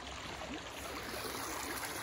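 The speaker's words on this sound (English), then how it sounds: "The awesome creek that flows through and gives us so many OB strokes." A creek flows through a disc golf park, a steady, even wash of rushing water heard alone at close range.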